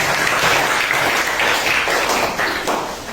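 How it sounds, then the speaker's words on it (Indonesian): Audience applause following a group presentation at a teaching performance assessment session in Padang, steady dense clapping throughout, loud and close, with no talk over it. "Tepuk tangan."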